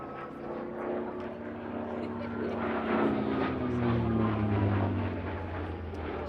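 A Hawker Fury propeller fighter, a carrier-designed warplane flown at the Sywell airshow, passes with a loud droning engine whose pitch slides downward as it goes by, while a commentator talks over it.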